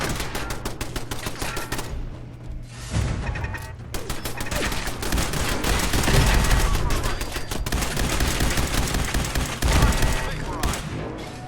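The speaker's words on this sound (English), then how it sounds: "We've got turrets ahead." Automated turrets fire in Fallout 4, sustained rapid bursts of gunfire crackling almost continuously with dense layered shots and clatter, loud and close throughout.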